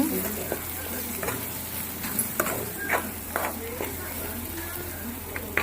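A spoon scrapes and stirs turmeric, garam masala and coriander powder in a pan with soft sizzling underneath, a few sharp taps standing out, fairly quiet and close.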